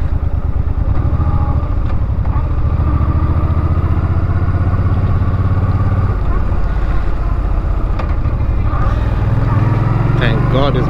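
Heavy motorcycle cruising along, a loud continuous engine rumble with wind buffeting, steady throughout with slight shifts in pitch near the end.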